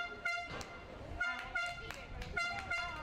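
Air horns blasted by fans in the stands at an under-14 Spanish championship football match, a few short honking bursts repeating over steady crowd noise at moderate distance.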